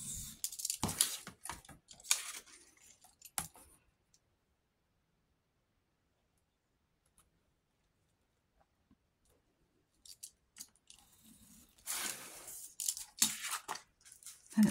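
Scissors snipping through paper for a cherry blossom craft, a burst of close, crisp cuts at the start, then a long silent gap, then another busy run of cutting and rustling near the end.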